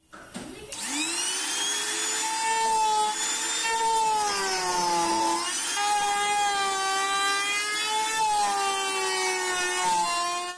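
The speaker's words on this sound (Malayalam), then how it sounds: "ഈ ബോക്സിൽ നമുക്ക് ട്യൂട്ടറിന് വേണ്ടിയിട്ടുള്ള ഹോൾ കട്ട് ചെയ്യാൻ" A power tool cuts a tweeter hole in a speaker box, a loud, continuous high-pitched motor whine whose pitch dips and rises as it bites into the box, running steadily for about ten seconds.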